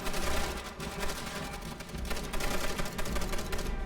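Dense, continuous gunfire from Call of Duty: World at War, a loud crackling wash of overlapping rifle and machine-gun shots with no clear pauses, heard amid chaotic battle noise.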